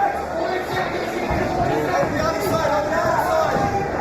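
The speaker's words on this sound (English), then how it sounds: "The crowd is loving this." Crowd noise from spectators at a live boxing fight, a steady broad roar and babble of cheering that runs continuously through the stretch without pause.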